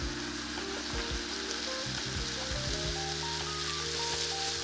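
Broccoli and mixed vegetables sizzle steadily in a pan on the stove, a continuous close frying hiss with a faint tonal hum and occasional soft clinks, no voices.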